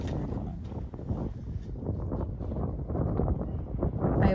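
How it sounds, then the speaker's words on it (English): Gusty wind buffets the microphone on a cold, windy day at a chicken coop build site, a steady low rumble swelling louder toward the end. "It was a really windy, cold day."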